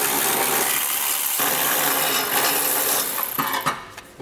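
Socket wrench on an extension working bolts loose during a trailer hitch install on a 2022 Nissan Rogue Sport, giving steady close metallic ratcheting and scraping with a few sharper clinks near the end.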